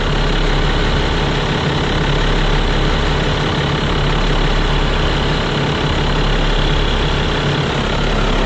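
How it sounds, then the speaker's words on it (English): Twin Volvo diesel engines on a 2000 Pursuit 3400 Fisherman boat idle at the dock after a cold start, a loud, steady low rumble with an even throb that carries unbroken throughout, with no voices. "So we've let the engines run for about 10 minutes now."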